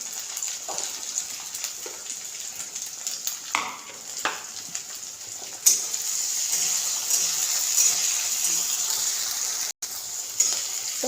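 Chopped tomato going into a pan of browned onion for a whole masoor lentil curry, then stirred and sautéed with a steady moderate sizzle, with a brief scrape or clatter early on.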